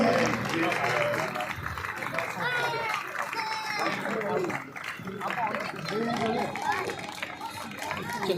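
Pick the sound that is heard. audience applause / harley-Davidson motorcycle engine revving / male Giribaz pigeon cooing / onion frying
audience applause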